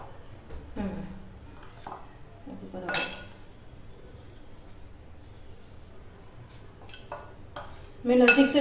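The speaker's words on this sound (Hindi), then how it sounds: "थोड़ा बटर हम डालेंगे" A spoon clinks and scrapes against a pan as melted butter is added to paneer in a home kitchen, with brief metallic taps spread through the clip and a louder clatter near the end.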